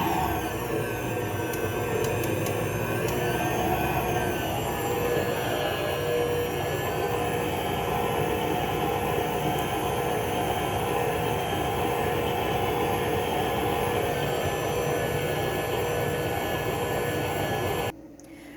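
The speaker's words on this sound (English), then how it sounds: "so we're going to mix it at low speed" An electric mixer runs at low speed through vegan pretzel dough, a loud, steady whirring motor drone that carries on without a break and then cuts off abruptly near the end.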